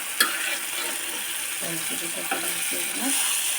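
Koi fish sizzles in a pan of hot oil, a steady frying hiss broken by scraping stirs and clinks of a spatula, with no voices.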